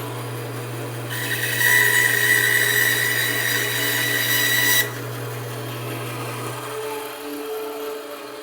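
A bandsaw cuts through wood in archtop guitar making: a motor hum runs throughout, and a loud, bright rasping cut rises for about four seconds before dropping back to the idling blade.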